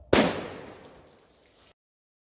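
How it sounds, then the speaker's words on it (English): 12 gauge shotgun firing buck and ball: one sharp, loud blast close by, followed by a short decaying outdoor echo before silence. "So I'm gonna back up and give it a shot with the shotgun."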